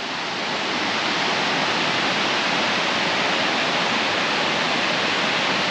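Waterfalls in Slovenia pour in a dense, constant roar of broadband rushing water, loud and unbroken throughout, with no voices.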